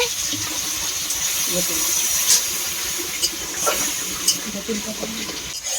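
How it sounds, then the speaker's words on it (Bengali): Spice paste of turmeric, chilli powder and salt frying in a pan with a splash of water, giving a steady broadband hiss and sizzle with a few soft scraping clicks, close and continuous, with no talk. "অল্প একটু জল দিয়ে মশলাটিকে কষিয়ে নেব"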